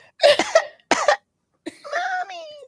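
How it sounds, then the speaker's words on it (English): A young girl coughing at night, heard as a few sharp, close coughing bursts separated by short pauses, then a rougher, strained vocal sound. "She was awakened by the sound of her daughter coughing."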